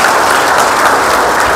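Audience clapping continuously at a company sales presentation, a dense, steady wash of many hands applauding at close range for the whole stretch, with no voices over it.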